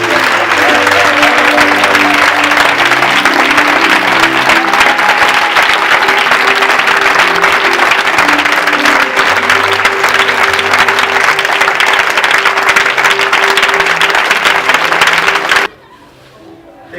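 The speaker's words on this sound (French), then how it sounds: "Est-ce qu'on peut acclamer fortement Jésus?" A church congregation at a Sunday worship service claps and cheers loudly for Jesus, sustained applause over soft music that runs unbroken for about fifteen seconds before cutting off abruptly.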